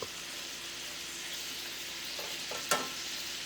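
Carrots and turnips searing over high heat in an iron skillet, a steady close hissing sizzle with a sharp clink of a utensil against the pan near the end.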